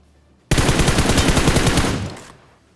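An M416 assault rifle fires in the BGMI battle royale video game: a sudden, loud automatic burst of rapid shots lasting about a second and a half, then a fading tail and silence.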